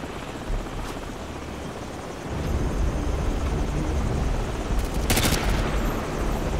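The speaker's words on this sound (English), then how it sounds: "be advised we've got enemy helos approaching from the northwest and southeast" Enemy helicopters approach in the video game Call of Duty Modern Warfare, a steady rotor drone that swells louder after a couple of seconds, with a short burst of gunfire-like crackle near the end.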